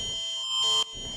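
Alert Ready emergency alert tone from a provincial test, a short, faint electronic buzzing beep of mixed high tones lasting under a second, with brief quiet before and after.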